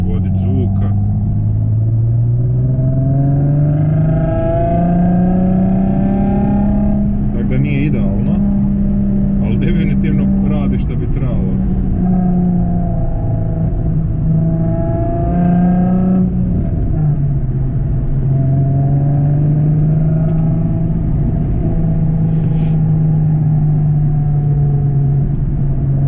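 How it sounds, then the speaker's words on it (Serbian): A Nissan 350Z engine and exhaust recorded by a microphone placed inside the exhaust pipe, giving a steady, loud, droning rumble whose pitch rises and falls gently with engine speed, with faint mechanical clatter carried through the metal. "čuće se i drugi malo mehanički zvukovi koje dolaze možda iz motora, a prenose se auspuhom"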